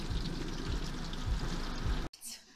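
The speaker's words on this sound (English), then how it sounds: "It's raining so hard." Heavy rain pounds a car windscreen during a storm, a dense, continuous hiss and patter that stops abruptly near the end.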